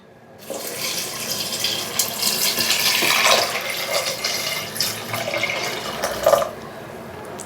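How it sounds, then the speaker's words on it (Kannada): About a litre of water poured into a pot of dal made with tomato, salt and turmeric: a steady splashing gush starting abruptly, swelling midway, ending with a brief bubbling gurgle, no voices. "ಇವಾಗ 1 ಲೀಟ್ರ್ ನೀರು ಹಾಕ್ಕೊತೀನಿ"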